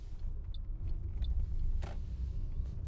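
Car interior rumble as the vehicle drives and slows, low steady road and engine drone with a few faint clicks and a short hiss.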